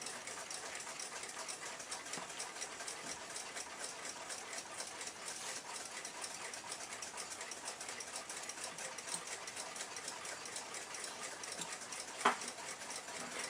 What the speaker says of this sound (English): So we'll put this in the cleaning machine and get it cleaned up.